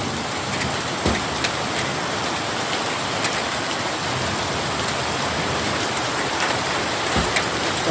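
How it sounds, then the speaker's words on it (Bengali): Heavy rain during a Kalbaishakhi storm pours steadily and densely onto nearby surfaces, forming a loud, unbroken hiss with occasional sharper drops or knocks. "এই যে বৃষ্টি নামতেই আছে।"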